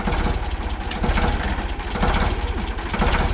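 A Ford 3000 tractor engine runs during a test, a loud, close, rumbling idle with a steady low pulsing beat and some mechanical clatter on top.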